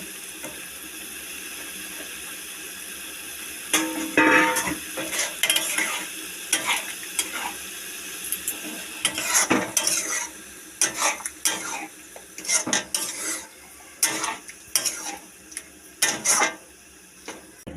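Prawns frying in a spicy banana flower curry, a continuous sizzle overlaid by busy, rapid stirring scrapes and clatters of a spoon against the pan, growing denser and louder as it goes, close up with no voices.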